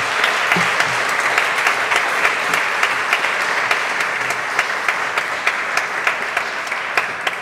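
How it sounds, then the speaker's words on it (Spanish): Loud, close applause from a seminar audience at a supreme court event, a full burst of clapping with a few sharp individual claps standing out as it gradually thins. "Un aplauso, por favor."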